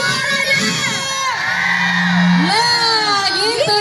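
Large crowd at a people's market and arts stage show, loud cheering, whooping and children shouting together, sustained and close, with a bright whistle-like tone held briefly through the middle.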